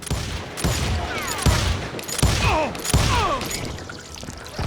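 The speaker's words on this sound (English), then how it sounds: "They're shooting in the street!" Repeated gunshots ring out in a Wild West street shootout in the video game Call of Juarez Gunslinger, loud sharp cracks arriving in uneven bursts roughly every second, with ricochet-like whistles between them.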